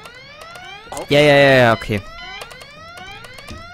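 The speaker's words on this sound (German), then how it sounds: "Alarm aus." Alarm siren in Goodbye Deponia, repeated rising electronic whoops with a loud, sustained harsh blast in the middle, close and prominent, with a few brief spoken words.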